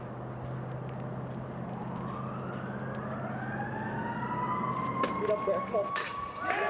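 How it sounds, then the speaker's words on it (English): Wailing sirens rise and sweep from a distance at a disc golf championship final round, growing louder over a low road rumble, with a faint voice underneath. "With the sirens going off"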